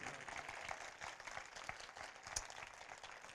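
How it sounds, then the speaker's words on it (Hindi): A church congregation claps together after a call to praise Jesus, a quiet, steady patter of many hands that keeps going with a few sharper claps and no talk over it. "जोरदार तालियां बजाइए यीशु के जलाल के लिए।"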